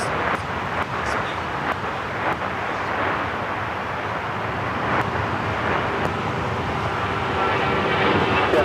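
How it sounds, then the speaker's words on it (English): An Alaska Airlines Boeing 737-800 takes off at Los Angeles International Airport, heard as a steady, broad jet roar that swells slightly toward the end, with faint traffic hum mixed in. "Next takeoff is Alaska Airlines Flight 6 heading to Reagan National. It's a 737-800."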